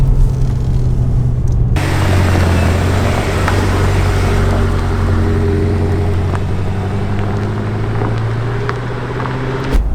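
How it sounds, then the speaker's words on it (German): A Japanese-import car's engine pulls hard under load, a loud, steady low rumble that starts abruptly and then drones continuously with rising harmonic tones, no talking over it. "Hören uns den mal an, wie der sich unter Last anhört"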